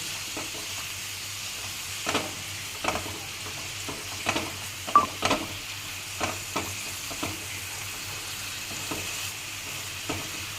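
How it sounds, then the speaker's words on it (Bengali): Garlic chili paste and tomato sauté in oil with a fairly quiet, steady sizzle, punctuated by intermittent spatula scrapes and taps against the pan. "এবারে রসুন আর লঙ্কা বাটা দিয়ে দিলাম আর টমাটো দিয়ে দিলাম এবারে এটা কষিয়ে নেব ভালো করে"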